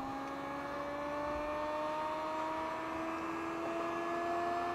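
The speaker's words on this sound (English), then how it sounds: "With the wheel energized and spinning under power, and measure the difference in the loading effect of the coils when the wheel is up to speed." A Zero Lenz dynamo wheel spinning under power, giving a steady electric whine with rising tonal hum over a constant whirring background, alone and unchanging in level.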